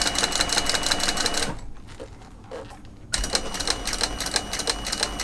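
A sewing machine stitching a leather bag runs in fast clattering bursts close by, pausing for about a second and a half in the middle before the rapid stitching starts again.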